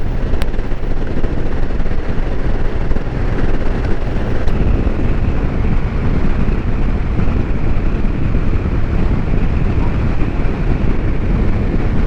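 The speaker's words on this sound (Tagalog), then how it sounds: "grabe ang hangin, sarap." Strong wind roaring steadily against the microphone, a constant loud rumble with no pauses and no talking.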